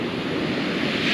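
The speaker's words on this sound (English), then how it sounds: "Look at the size of these waves here today." Ocean surf at Venice Beach washes in as a brief, steady broadband rush, with wind noise buffeting the microphone and no voices.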